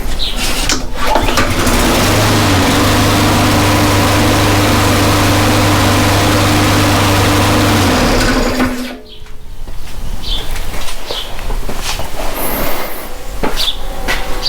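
Replacement lawn mower engine roaring loudly and steadily up close for several seconds, then cutting out and leaving a fainter rumble with scattered clanks.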